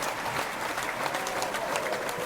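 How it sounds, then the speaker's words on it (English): Short burst of audience applause for a guest on a hacking-themed show, a steady broadband patter of many hands clapping for about two seconds, moderately loud with no talk over it. "Does Zach get an applause today?"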